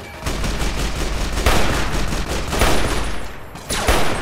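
Gunshots in a modded Fallout: New Vegas, loud and close: a dense, continuous volley of rapid fire with heavier booming reports cutting through, briefly thinning before another burst.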